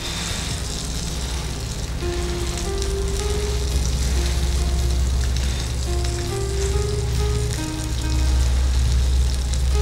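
Stuffed fish frying in a pan, its second side browning in a continuous loud, crackling sizzle with a faint tonal hum underneath and no voices over it.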